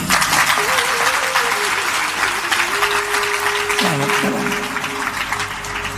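An audience at a Hindi devotional satsang claps loudly and continuously, a thick crowd applause lasting several seconds while a sustained voice or tone sings or drones over it.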